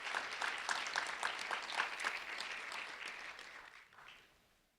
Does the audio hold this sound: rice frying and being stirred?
no